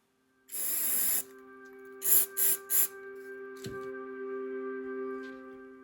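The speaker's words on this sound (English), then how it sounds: "Adding the spray adhesive can be a bit messy." A can of spray adhesive hisses as it coats a model tree: one long burst, then three short sharp sprays, over a steady faint hum.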